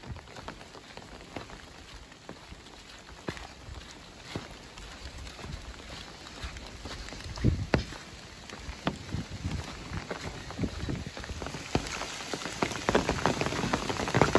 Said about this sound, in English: We're just walking in the rain